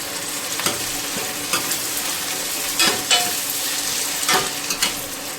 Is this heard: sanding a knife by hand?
no